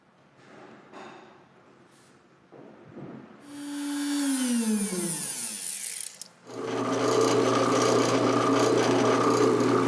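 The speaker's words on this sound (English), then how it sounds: "I can go ahead and cut in some threaded inserts and mortise in my washers" Threaded inserts being cut and washers mortised into a wooden desk leg: a few light taps and scrapes, then a whining power tool winds down, followed by a loud steady machine roar boring into the wood.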